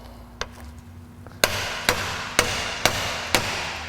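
Hammer taps driving a socket into a 1998-2002 Honda power steering pump during a rebuild: one light tap, then five sharp, evenly spaced metallic strikes, close and clear over quiet shop background.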